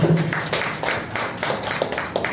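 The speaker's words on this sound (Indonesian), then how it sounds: "Terima kasih tepuk tangan untuk semuanya." Audience at a school principal training session clapping, a brisk run of hand claps at a moderate distance over a roomy background, without talk.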